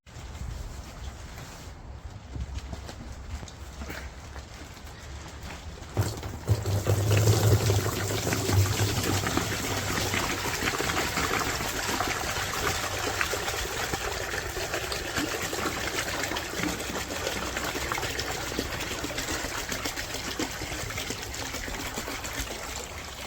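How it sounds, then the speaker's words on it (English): Muck trickles and pours steadily out of a Pioneer Nevada motorcycle fuel tank, a continuous close liquid stream that grows fuller and louder after a few seconds, with no talk. "hopefully give you a really satisfying pouring video of all the muck that is going to come out of that tank"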